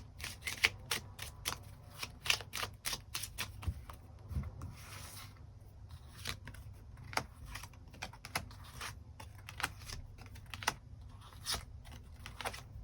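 Tarot cards are shuffled and drawn, giving quiet, close, irregular flicks and soft riffling taps scattered throughout, with no voice heard.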